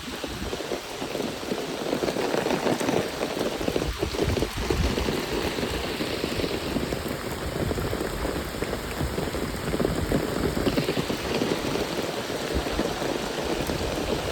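Heavy rain pours down steadily and close by outside a house in Bangladesh, a dense continuous hiss with pattering drops and no voices.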